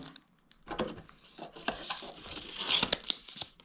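Plastic bag crinkling while a spinning rod is unboxed: soft, close rustles and crackles in irregular bursts, fairly quiet with a few sharper crinkles.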